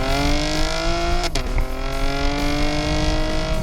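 A 2016 Chevrolet Camaro RS with a V6 engine revs loudly and steadily, its pitch climbing, dipping sharply with a quick shift around the middle, then rising again in a continuous close drone.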